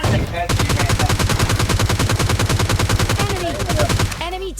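In the video game PUBG Lite, a fast automatic burst of gunfire rattles loud and continuous for about four seconds, then stops abruptly.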